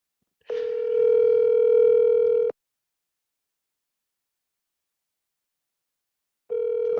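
Steady telephone ringback tone while calling a vacant-property lead, loud and close, one two-second burst followed by a long silence and a second burst starting at the end.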